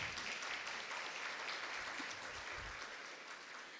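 An audience at a regional student oratory contest in the Ngäbe Buglé comarca of Panama claps steadily, a dense, even burst of applause lasting a few seconds.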